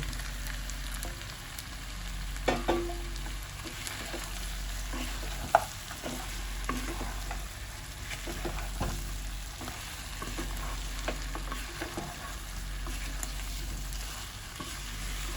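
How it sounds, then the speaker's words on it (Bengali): Mutton pieces and potatoes stir-frying in a pan for a spiced curry, a steady sizzle with scattered scraping clicks of the spatula, close and fairly quiet, no voices. "মাংসটা কষানো হয়ে গেছে, এবার আলুগুলো দিয়ে আরেকটু কষিয়ে নেব।"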